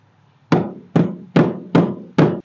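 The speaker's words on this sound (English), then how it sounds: "And I'll take my hammer here." A hammer drives a homemade wooden plug into a carpenter bee hole with five sharp, evenly spaced strikes, each loud and close, with quiet gaps between them.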